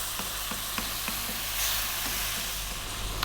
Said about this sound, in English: We want those tomatoes to cook down.